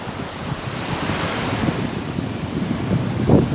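Sea waves on a choppy, overcast day along the Izmir waterfront, a continuous close wash of surf mixed with wind rumbling across the microphone, with a slightly louder splash near the end.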